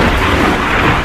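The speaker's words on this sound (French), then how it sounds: "Oh non, pas la pluie." Heavy rain with rumbling thunder in the video game Ark: Survival Evolved, a loud, dense, continuous roar of downpour with a low rumble underneath, no talking.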